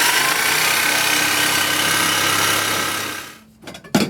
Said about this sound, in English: There's some big old hole in this exhaust.